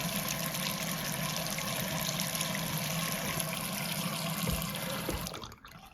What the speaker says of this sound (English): No problem going down the drain.